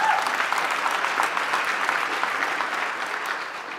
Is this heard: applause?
yes